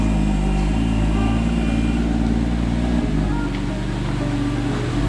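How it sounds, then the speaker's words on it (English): A BMW F87 M2's stock exhaust idles with a low, steady rumble, droning evenly throughout at close range with no one speaking. "good sounding stock exhaust"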